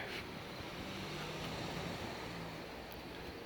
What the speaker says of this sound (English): It's breezy up here.